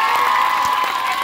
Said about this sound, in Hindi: एक बार फिर से ताली बजाओ